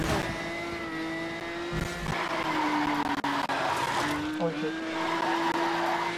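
In Asphalt 9, a racing car's engine hums steadily while the tires skid and squeal loudly, with the pitch of the screech shifting over several seconds; a voice speaks briefly under the sound.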